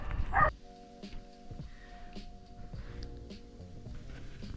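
A dog whimpers and yips in short, high-pitched bursts, with one louder whine at the start, then quieter intermittent whining over a steady background hum.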